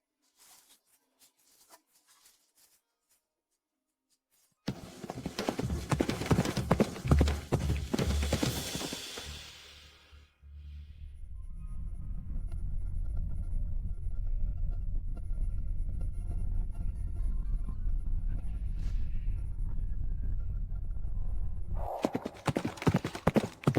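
Horse hooves clip-clop at a gallop, loud and close for several seconds, then give way to a steady low rumble, with a brief burst of hoofbeats again at the end.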